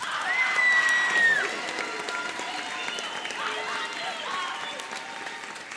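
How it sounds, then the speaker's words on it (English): An audience applauds a middle school choir at a popular music concert, a dense, steady wash of clapping with some cheering that swells at first, then holds at a moderate level. "give this choir another round of applause"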